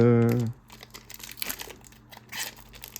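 Pokémon booster pack wrappers being opened: a short run of crinkling and tearing foil plastic close by, following a brief spoken word at the start.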